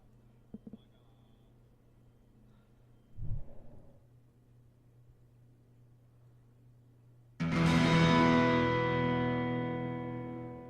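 The end-of-day sound from the video game Night in the Woods plays after a quiet stretch with faint clicks and a brief soft burst, then a loud, bright chiming swell that slowly fades.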